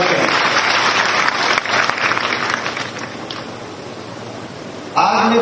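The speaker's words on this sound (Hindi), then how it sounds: "मैं चाहता हूं कि समिति के लिए भी जोरदार ताली से उनका स्वागत करें।" Audience at a floral tribute ceremony for Peshwa Bajirao I's birth anniversary in Khargone breaks into loud, sustained applause, a dense wash of clapping that eases slightly, then surges again near the end.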